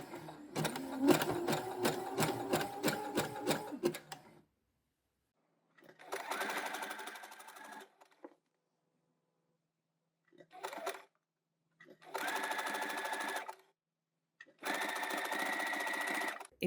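Sewing machine stitching elastic and lace onto knickers in four separate bursts, a rapid rhythmic mechanical whir with quiet pauses between runs, the later runs shorter and steadier.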